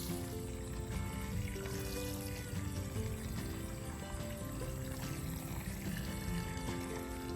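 Water gushes steadily from a 1/4 horsepower sump pump drawing from a lake, a continuous rushing pour with no pauses and no voices.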